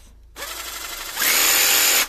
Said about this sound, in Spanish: gracias al gatillo sí podemos regular, como veis, la velocidad